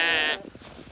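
A sheep gives one loud, close bleat outdoors on a cold farm, where pallets are being built into a shelter. Quieter rustling and shuffling follow once the bleat ends.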